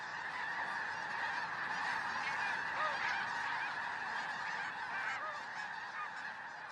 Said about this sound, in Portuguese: São gansos das neves em sua migração anual do Golfo do México para o Canadá.